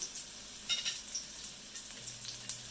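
Mushrooms stir-frying in a pan for pad kee mao drunken noodles, a quiet steady sizzle with faint scraping stirs, close by and without talk.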